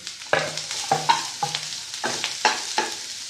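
Cabbage, spring onion and coriander with turmeric fry in a pan over medium heat, and a utensil scrapes and stirs in repeated strokes over a light sizzle, close and fairly loud.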